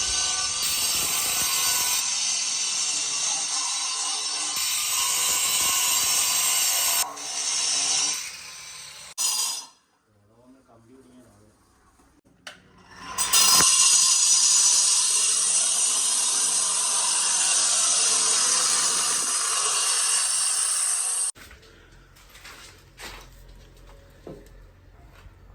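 A power cutting machine cuts through old floor tiles and concrete to make room for a sink, a loud sustained grinding whine in two long runs split by a quieter gap and ending abruptly.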